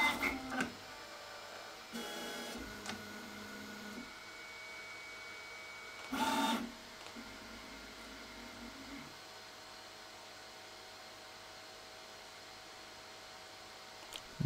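An E3D toolchanger 3D printer swaps tools and travels, giving a few short mechanical bursts near 2 and 6 seconds over a quiet steady hum, with no talk.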